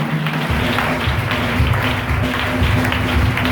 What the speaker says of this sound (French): On va venir pour applaudir Jésus.